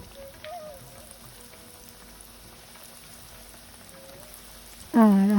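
Egg pakora fries in a pan with a faint, steady crackling sizzle, and a voice cuts in loudly at the very end.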